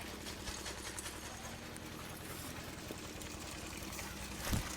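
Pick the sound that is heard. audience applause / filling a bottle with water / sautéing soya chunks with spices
filling a bottle with water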